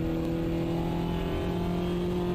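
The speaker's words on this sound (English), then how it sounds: "It's like a vibrating exhaust note, kind of." Engine and exhaust of a MINI Cooper JCW in the Automobilista 2 racing game, a steady, buzzing, vibrating drone holding near-constant revs throughout, loud and with no talk over it.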